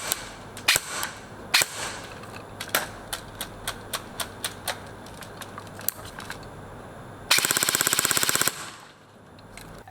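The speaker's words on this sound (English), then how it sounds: "this gun is shooting right around 400 FPS" Ares Amoeba AM-013 airsoft gun firing 0.20 g BBs: a string of sharp, snappy single shots at an uneven pace, then a rapid full-auto burst of about a second, followed by a few more isolated shots, close and loud.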